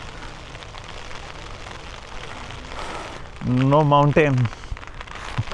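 Heavy rain pours steadily at a village train station in Japan, a dense hiss that runs throughout, with a short spoken phrase and a voice rising over it partway through.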